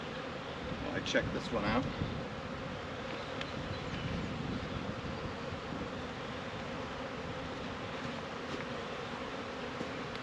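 Honey bees buzz steadily around an open hive while a spring split is being made, a continuous low droning hum with a few louder passes close by and a person talking briefly over it.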